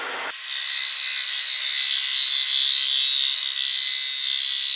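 A gouge held at about 45 degrees takes a shear cut on a wooden bowl spinning on a lathe, giving a steady, close, bright hissing rasp that starts abruptly after a brief lower rumble and runs on without a break.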